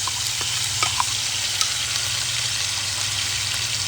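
Butter sizzles in a pan as a spice paste for chicken Afghani is poured in, giving a steady, close frying hiss with a few soft stirring clinks and a low hum underneath, no voices.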